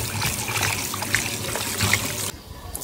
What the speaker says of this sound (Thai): ล้างหมูให้สะอาด